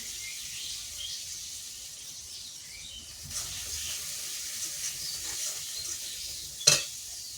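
Ground dried chilli paste, salt and spices sizzling in a pan for a mourola fish curry, a steady close hiss with stirring scrapes and a sharp clatter near the end, with no voices.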